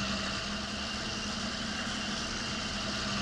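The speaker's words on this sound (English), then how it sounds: "I like the sound of this tractor, listen to it." A large tractor engine idling in Farming Simulator 19, a steady low rumble with a constant drone, held at even loudness throughout with no talk.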